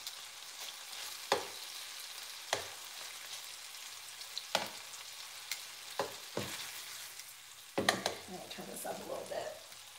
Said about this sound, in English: So you're gonna cook the bacon on medium-high heat,